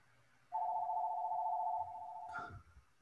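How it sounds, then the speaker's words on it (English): A telephone rings in a business office as one steady electronic warbling tone lasting about two seconds. It is fairly faint against quiet room noise and ends with a brief clatter. "they can hear the phone ringing"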